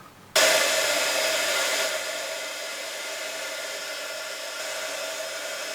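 Heat tool melting embossing powder on metal dies switches on abruptly with a loud, steady, close blowing whoosh that eases slightly and holds constant, alone without talk.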